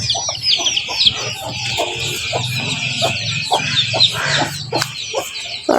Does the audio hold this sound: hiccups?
no